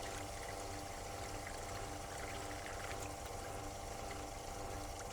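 Water from a MacRo pure water production unit filling a 1 litre vessel: a faint, steady rushing pour with a constant hiss and a low pump hum, continuous with no talk.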